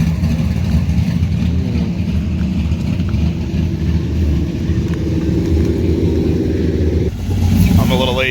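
A Dodge Charger engine rumbles and revs steadily nearby at a car show, loud and throaty, with a sharper rev near the end.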